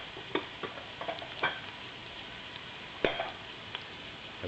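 A pan of sautéing native onions for laing is stirred, with faint sizzling under scattered light scrapes and clinks from the utensil, no talking.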